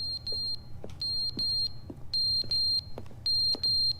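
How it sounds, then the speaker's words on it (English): Repeated electronic alarm beeps in The Stanley Parable: Ultra Deluxe, coming in bursts of several tones with short gaps, loud and steady over a low background hum. "Why is everything beeping?"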